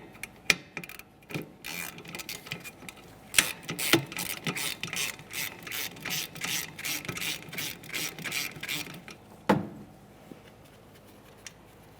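A ratchet wrench works on two 10mm mounting bolts of a rear brake wheel cylinder on a 2014-2019 Toyota Corolla, giving close, rapid bursts of ratcheting clicks with short pauses in between and no talking.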